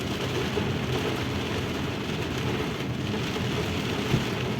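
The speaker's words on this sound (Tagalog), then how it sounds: "Malakas ang ulan." Heavy rain falls at night in Jeddah in a steady, dense roar with a low rumble underneath, continuous and fairly loud, with no voices.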